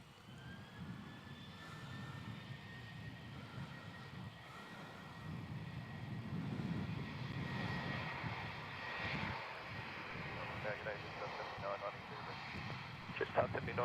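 Jet airliner taking off from Melbourne Airport, heard from a distance as a broad rumbling roar that swells gradually and stays faint under radio chatter and talk.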